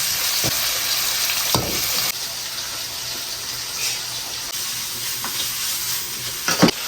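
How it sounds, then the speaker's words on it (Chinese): Cucumber is stir-fried in a wok with garlic, ginger, scallion and tomato, a continuous loud sizzle punctuated by a few metallic spatula strikes, louder clattering near the end. "锅中加油，葱姜蒜番茄爆香，下入黄瓜，"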